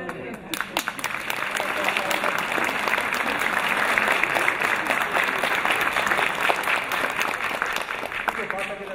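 An audience at the inauguration of a National Theatre claps steadily for nearly nine seconds. Dense, sustained applause builds quickly after the first second and stays even throughout.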